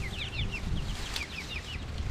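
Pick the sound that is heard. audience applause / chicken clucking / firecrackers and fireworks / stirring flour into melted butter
chicken clucking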